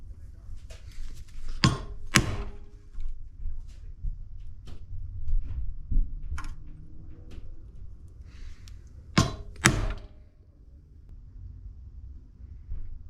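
Several sharp strikes of an old drywall hammer ring out in small clusters, close by, with quiet pauses and faint shuffling between them.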